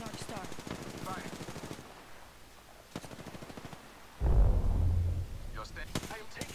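A heavy burst of gunfire in a Legends battle royale video game booms out loud and close near the end, after a stretch of someone talking and short clicks.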